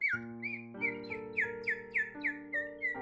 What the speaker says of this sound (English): You simply fill them with water, and then when you blow, they make a warbling sound like a bird.